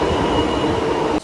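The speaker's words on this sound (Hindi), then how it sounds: "मेट्रो का वेट कर रहे हैं, मेट्रो भी आ गई है।" A metro train pulls into the station, a loud, continuous rumble of wheels on rails close by with a steady mechanical hum, cutting off abruptly at the end.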